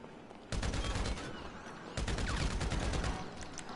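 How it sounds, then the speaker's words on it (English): Rapid bursts of video-game gunfire in GTA 5, two loud sustained volleys of close, crackling automatic shots separated by a brief pause, with no talk over them. "let me shoot you out."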